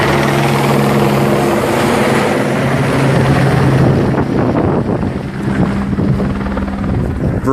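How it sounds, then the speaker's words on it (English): A Department of Homeland Security helicopter flies overhead, a loud, steady rotor drone mixed with strong wind buffeting across the microphone. "That's a Department of Homeland Security helicopter."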